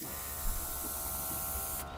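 A Copic airbrush sprays ink in a steady hiss that runs unbroken for about two seconds, then cuts off sharply at the end, with a faint mechanical whir underneath.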